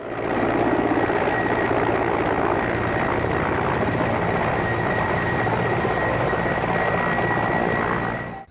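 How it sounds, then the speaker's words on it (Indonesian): A helicopter drones loudly and steadily nearby, its rotor and engine noise filling the scene without a break. "Wow, lihat teman-teman, di sini ada helikopter."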